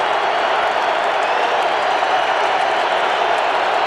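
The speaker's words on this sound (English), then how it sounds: "this crowd finally getting into it here a little bit" An NFL football stadium crowd roars and applauds in a dense, steady wash of cheering and clapping, loud and unbroken throughout.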